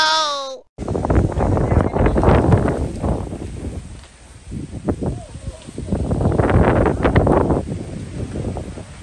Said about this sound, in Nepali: हावा सरर चल्न सुरु भएको छ है।